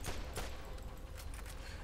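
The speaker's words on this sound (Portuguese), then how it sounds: "É a metralhadora com 6 tiros." Six-shot machine gun fire in the Borderlands video game, a quick run of sharp gunshots in an uneven burst, loud and close, with no talking.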